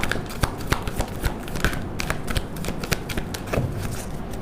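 A deck of cards is shuffled close up, giving a continuous rapid riffling patter of crisp flicks and soft slaps for several seconds with no voices.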